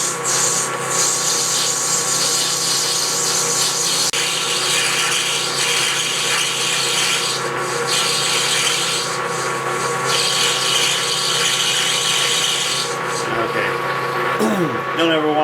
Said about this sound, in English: we're going to continue parting